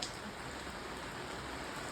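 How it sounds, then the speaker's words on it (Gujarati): Heavy monsoon rain falling outside a home, a dense, steady hiss of drops on surfaces heard from indoors, even and unbroken, with no one speaking. "બહાર જો વરસાદ આવે, એટલો વરસાદ આવે છે"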